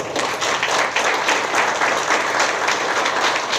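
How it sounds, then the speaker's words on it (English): An audience at a Brockton Rotary Club scholarship awards program breaks into steady, dense applause that holds evenly at full strength for several seconds, with no voices rising above it. "I just want to give her a round of applause"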